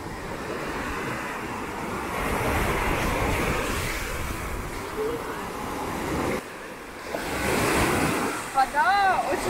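Baltic Sea waves wash onto the beach at Baltiysk in a steady, close surf roar with wind buffeting the microphone, dipping briefly before swelling again.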